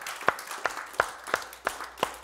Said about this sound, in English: Give the Lord a hand clap one more time.